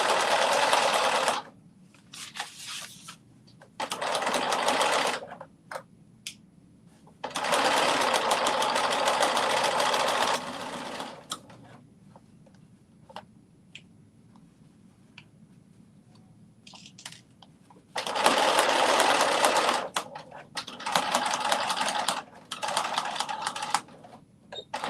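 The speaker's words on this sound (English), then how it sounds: "We finished sewing the bottom" A sewing machine stitches the bottom hem of a garment in three loud, steady bursts of rapid whirring, separated by quieter pauses filled with small clicks and handling noises.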